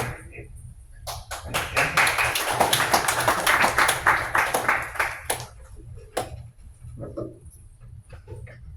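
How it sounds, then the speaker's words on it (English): Audience applause at a live tech demo night, a dense burst of clapping that swells for several seconds and then fades into scattered claps. "let's give a round of applause"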